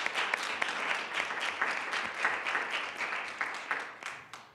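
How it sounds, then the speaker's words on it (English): Moderately quiet applause in a school board meeting room, a room full of people clapping steadily for several seconds before tapering off at the end. "So a round of applause for Phil Georgia."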